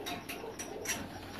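A racing pigeon coos in a champion loft, a few soft rhythmic coos close by with no talking.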